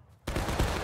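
A single sharp musket volley from a line of Union infantry in the Civil War game War of Rights, an abrupt loud crack that rolls on briefly, following a shouted fire order.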